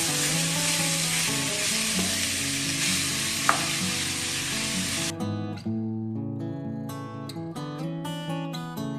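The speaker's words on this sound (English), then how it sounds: "And now we saute these onions till they are nice and soft and translucent." Onions sautéing in a pan, a loud close sizzle with stirring scrapes; the frying hiss runs dense and steady, then thins into sparser crackles and clicks of stirring.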